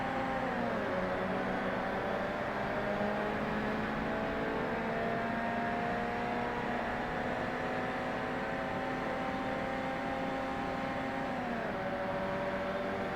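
A race car engine in the first Forza Motorsport, racing against a highly tuned RX-7, holds a steady high droning whine with shifting pitch lines and no pauses, loud and continuous throughout.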